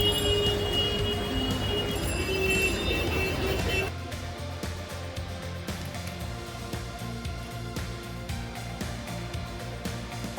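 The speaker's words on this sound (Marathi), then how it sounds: "ट्रेनची बघू शकता किती गर्दी आहे" A crowded commuter train at Goregaon station gives a steady, close rumble with rattling clicks, louder for the first few seconds and then settling into a lower, even roar.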